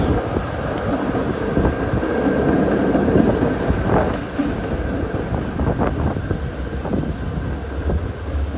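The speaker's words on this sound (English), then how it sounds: "Comes a Castro-bound Pacific Electric painted trolley from Los Angeles" Castro-bound historic trolley painted in Pacific Electric colors rolling along Market Street at Guerrero in San Francisco, a steady rumble of wheels on rail with clanks and squeals, close by, under wind buffeting the microphone.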